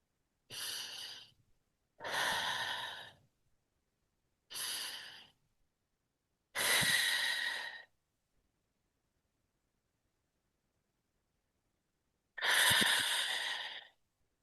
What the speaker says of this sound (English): when you are deep breathing, take breathing through nose, breathe out through mouth